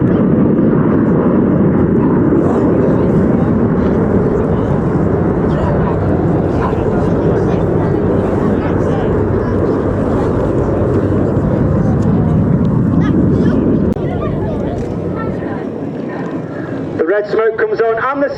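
RAF Red Arrows jets in a flying display at the RAF Cosford airshow, a loud sustained engine roar that fades toward the end as a commentator talks over it.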